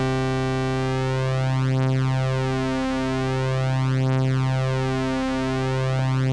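A steady synthesizer tone with rich harmonics, slowly beating and phasing as two oscillators drift against each other, loud and sustained throughout.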